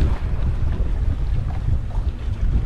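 Wind blowing on a fishing boat at sea off Key West, Florida: a steady, loud, low rumble of gusts buffeting the microphone, with no voices.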